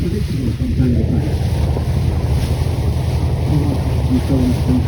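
A scenic tour boat cruises on a lake near the Canada–US border, its engine droning low and steady under constant wind buffeting and water wash.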